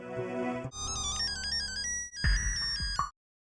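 An electronic phone ringtone plays a bright, repeating melodic pattern of high tones, pausing briefly before resuming louder, then cutting off abruptly.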